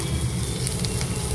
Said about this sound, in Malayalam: ഇതും ഒരു ഗോൾഡൻ ബ്രൗൺ ആവുന്നത് വരെ ഇത് വഴറ്റുക